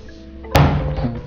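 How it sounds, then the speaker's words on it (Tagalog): A door in a supposedly haunted house gives a single dull thunk, like it knocking shut against its frame. A low resonant rumble lingers after the impact over quiet room noise. "Pero gumagalaw yung pinto"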